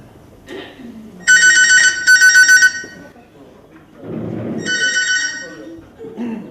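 A telephone rings in a comedy sketch, two bursts of bright electronic trilling close by, with a later softer ring, and people talk in between.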